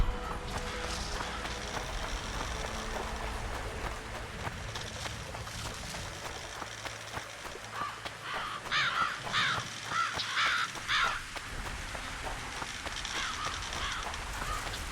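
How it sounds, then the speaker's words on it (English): Crows caw in The Witcher 2, a cluster of rough, repeated calls heard at moderate distance over a continuous outdoor ambience with faint movement and footsteps. "They're just birds."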